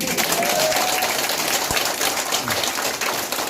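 A crowd of delegates at a Korean community credit union meeting applauds steadily to approve agenda items, a dense wash of many hands clapping together for several seconds at a moderate distance.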